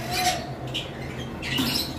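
Pale fallow lovebird, one of a pair kept alongside cobalt blue and violet birds, gives a few loud squawking calls, close by with steady background noise and no talk.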